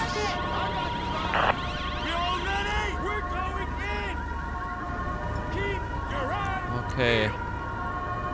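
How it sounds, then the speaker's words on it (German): Wailing ambulance and emergency sirens sweep and overlap in GTA V traffic, loud and continuous across the scene, with brief voice talk mixed in. "kommt ja auch noch die Feuerwehr und der Krankenwagen"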